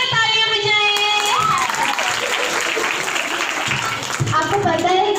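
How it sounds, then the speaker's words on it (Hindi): An audience claps at a children's Christmas puppet show, with continuous loud applause mixed with excited children's voices and chatter throughout. "जोरदार तालियां बजाएं"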